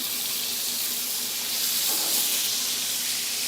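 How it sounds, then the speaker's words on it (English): Beef tenderloin steak sizzling in a pan while basted with rosemary-flavored fat, a loud continuous hiss and spatter close up throughout. "Now you want to baste your meat, all right, with that lovely flavor."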